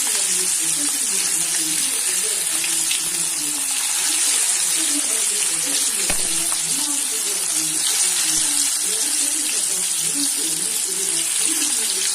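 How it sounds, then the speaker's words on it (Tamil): Masala-coated fish fries in hot oil with a loud, dense, continuous hiss and sizzle that stays steady throughout, close up, with no speech over it. "இப்போ எண்ணெய் காஞ்சிச்சு, நம்ம வச்சிடலாம்."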